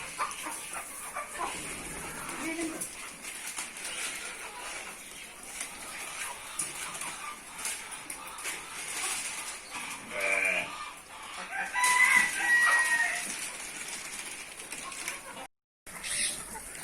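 Farm birds from Pakistan, chickens and a rooster, cluck and call intermittently at a moderate distance among general farmyard noise, with goats nearby and occasional voices.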